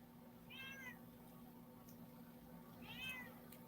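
Quiet indoor setting with two distinct cat meows, about two and a half seconds apart, each a short rising-falling cry over faint background hum.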